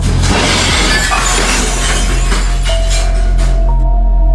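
A loud crash of shattering glass, with broken pieces clattering and ringing as they settle over a few seconds.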